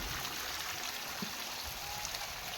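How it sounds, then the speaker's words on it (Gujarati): Rain falling steadily outdoors, an even, continuous hiss that fills the whole stretch without pauses and with no voices. "વરસાદ ચાલુ થઈ ગયો છે"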